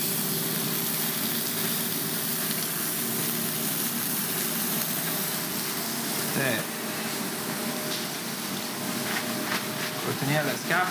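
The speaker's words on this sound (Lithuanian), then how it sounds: "Krūtinėlės kepam." Duck breasts frying in a pan in a busy professional kitchen during a sustainable-food cooking competition in Klaipėda, a steady broadband sizzle under a continuous hum of extraction fans, with occasional clinks and brief voices nearby.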